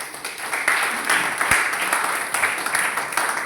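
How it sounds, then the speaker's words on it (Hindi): An audience at a training seminar claps together, a steady wash of applause with a few sharper individual claps standing out near and far. "इनके नाम पर भी आप लोग एक ताली बजाएं।"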